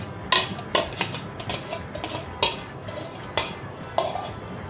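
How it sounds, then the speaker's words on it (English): Peanut butter banana cake batter mixed in a bowl, regular scraping strokes about once a second with clinks of the utensil against the bowl, close and clear with no talk. "we'll mix everything till it is well combined"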